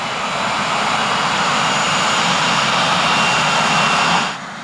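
A plane's engine roars steadily and loudly at takeoff at Spirit of St. Louis Airport, a broad continuous jet-like rush that holds for several seconds before dropping off abruptly at the end.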